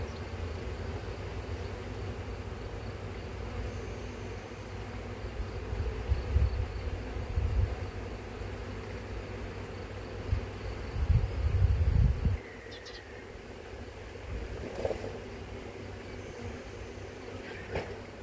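Honeybees descending into hive frames make a continuous low buzzing hum throughout, moderately close, with occasional louder thumps and handling noises and a drop in level partway through.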